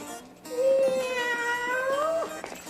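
A cat lets out a long, drawn-out caterwauling meow that rises and bends in pitch, close and clear, followed by a shorter trailing cry near the end, with no voices.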